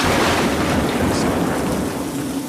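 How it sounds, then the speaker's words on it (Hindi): Heavy rain pours steadily during a cold night storm, a dense, unbroken hiss that stays loud and even throughout with no distinct thunderclap standing out. "बारिश लगातार तेज होती जा रही थी।"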